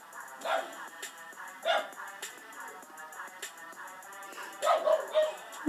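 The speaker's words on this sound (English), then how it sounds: "By the way, sorry for my dog in the background." Indoors, a dog in the background gives scattered, moderately loud barks in a few short bursts, spaced irregularly with quieter gaps, and no one speaks.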